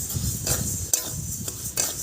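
Mung dal dry-roasting in a hot wok, stirred with a scraping, rustling rhythm of dry lentils shuffling against the metal, with periodic sharper scrapes of the spoon, close and steady.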